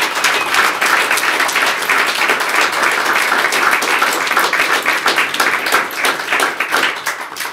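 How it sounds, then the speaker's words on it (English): Audience applause at a mayoral announcement of fashion manufacturing grant winners: dense, sustained clapping from a room full of people, steady and fairly close, tapering slightly at the end. "Let's give them all a round of applause."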